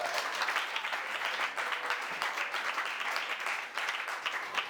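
An Assemblée de Dieu church congregation in Zokoube claps and applauds, a dense, sustained wash of many hands that stays steady and fairly close throughout.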